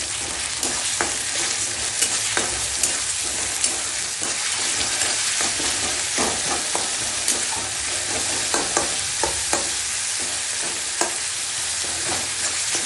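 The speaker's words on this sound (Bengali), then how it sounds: "পেঁয়াজটা ভাজা ভাজা হয়ে গেছে, এখন আমি রসুন দিয়ে দিচ্ছি, রসুন পেস্ট" Onions and garlic paste fry in hot oil while a spoon stirs them steadily for a Bengali fish curry with cream, a continuous close sizzle broken by irregular scraping knocks.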